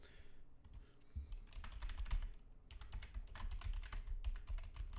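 Quiet, close-up typing on a computer keyboard, a steady patter of key clicks with brief pauses, no voices.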